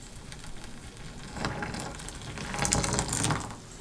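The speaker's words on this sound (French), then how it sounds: "maintenant j'amène la bouilloire et je vais balancer." Boiling water poured from a kettle onto a sneaker, a steady close hiss and splash that swells in two surges before easing off.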